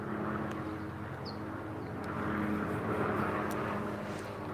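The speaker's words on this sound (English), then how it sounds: "Somebody's private helicopter going up the valley." A private helicopter flies up a valley, a steady distant droning hum that swells slightly midway, faint and continuous with no talking.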